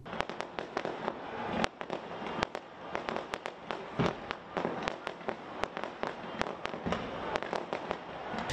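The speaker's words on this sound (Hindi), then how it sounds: "आतिशबाजी भी की गई।" Fireworks explode across Karachi during New Year celebrations, with dense, irregular sharp bangs and crackles that continue without pause over a steady background rumble. They are moderately distant and heard with no talk.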